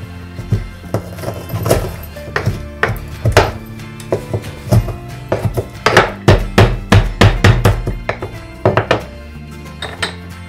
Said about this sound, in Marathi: मी ह्या 3 पाकळ्या लसूण ठेचून घेणार आहे